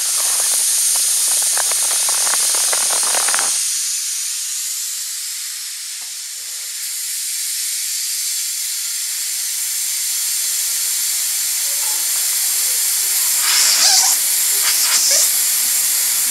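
Air pressure vents from a Blitz .30 caliber Gen 2 airgun in a loud, continuous hiss that grows steadier and quieter, then picks up with sputtering bursts near the end, with no talk.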